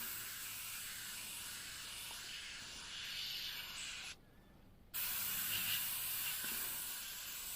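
An airbrush sprays paint in short on-and-off bursts, a steady close hiss broken by one clear pause before resuming.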